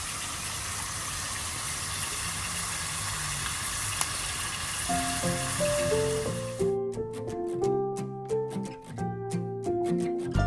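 Round gourds (tinda) fry in a pan with a steady, hissing sizzle for several seconds before music comes in and covers it.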